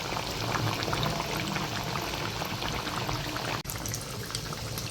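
Sabudana vadas frying in hot oil, a steady, close hiss and fizz of bubbling that runs evenly throughout with one brief dropout near the end.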